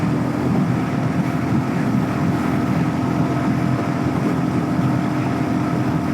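A Royal Enfield Hunter 350 motorcycle riding on grooved pavement on a rainy commute in Houston, a steady droning engine and tire rumble with heavy wind buffeting, continuous and fairly loud with no talking.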